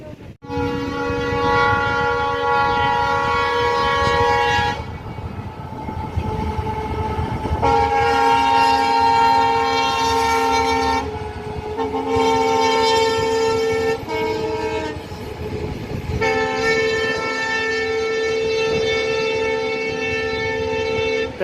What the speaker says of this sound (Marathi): रेल्वे आली त्यामुळे रेल्वे आली त्यामुळे थांबलेच सर्वजण